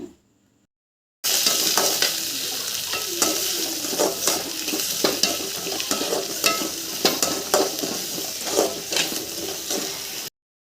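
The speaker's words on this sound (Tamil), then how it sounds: "பொடியாக நறுக்கி வச்ச நூறு சின்ன வெங்காயம் ஆட் பண்ணி நல்லா வதக்கிக்கோங்க" Finely chopped small onions sizzle and fry steadily in a hot pan, with repeated scraping and stirring clatter throughout, loud and close after a brief silent start.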